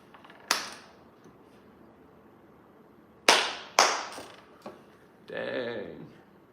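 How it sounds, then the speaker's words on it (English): Single hand claps recorded through a Scarlett Solo audio interface, a few loud, sharp, close claps spaced apart with short decays, followed by a brief burst of speech. "I'm going to do my own clap like that."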